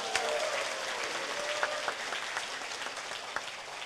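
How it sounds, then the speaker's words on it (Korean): Audience applause at a cruise promotion segment of a One Ecosystem cryptocurrency event in Korea, steady dense clapping throughout at moderate distance with a few sharper individual claps standing out and faint voices underneath. "박수 한번 치세요"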